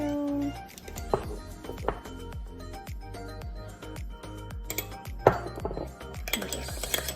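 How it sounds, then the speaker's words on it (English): Cumin, paprika and other spices are stirred into soyrizo in a pan, with a spoon scraping and clinking against the metal in a loose rhythm of taps and clatters. "And just stir it all together."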